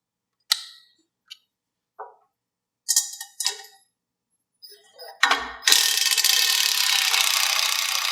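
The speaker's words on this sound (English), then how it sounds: "So we'll go ahead and loosen these 2 bolts right here." A socket ratchet loosens half-inch bolts on the protective cover of a Schulte rock picker's hydraulic valve: a few sharp, isolated clicks and short ratchet bursts, then a close, continuous run of rapid ratcheting.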